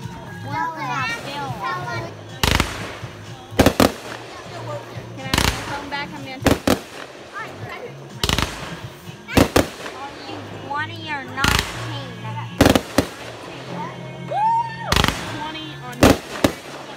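Fourth of July consumer fireworks bang sharply in a backyard setting, a dozen or so loud cracks and pops at irregular intervals, with children chattering and calling out between the blasts.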